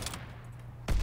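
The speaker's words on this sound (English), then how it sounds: "I'm just gonna snipe him real quick" A sniper rifle shot in Call of Duty: WW2 rings out as one loud, sharp blast near the end of a quiet stretch of game ambience.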